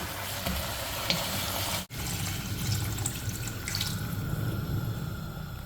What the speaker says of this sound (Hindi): फिर हम इसके अंदर ऐड कर देंगे पानी